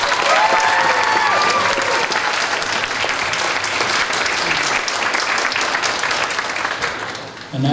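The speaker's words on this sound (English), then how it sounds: "Can I get a big round of applause for all of our guests and panelists?" Convention audience applauding during an anime convention's opening ceremony, a dense, steady wash of clapping and some cheering that holds at full strength for about seven seconds before tapering off at the end.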